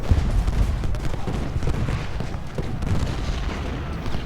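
Cannon fire on a Gettysburg battlefield in Ultimate General Gettysburg, a steady rumbling barrage of distant booms and crackling volleys blending into a continuous roar, with a voice faintly present.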